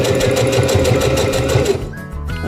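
Sewing machine stitching around the edge of a fabric chair cover, a steady close rapid motor whir with a rhythmic needle pulse that runs continuously, then slows and stops near the end.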